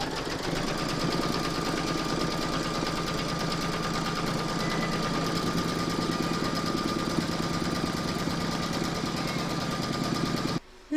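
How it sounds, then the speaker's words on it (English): An embroidery machine stitches a design round on a hooped fabric photo frame, a steady, close, rapid mechanical hum and needle rattle that runs evenly and then cuts off abruptly at the end. "Pop your hoop back into your machine and stitch round number 23."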